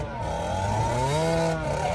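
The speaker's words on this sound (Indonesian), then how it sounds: "dikagetkan dengan suara motor Diablo yang hendak kabur" Motorcycle engine starting up and revving for a getaway in a film scene, a short rising engine whine over about two seconds, moderately loud with overlapping music-like tones.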